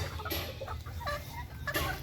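Several roosters and hens from a gamefowl breeding flock cluck and squawk in short overlapping bursts close by, with a few sharper cries standing out.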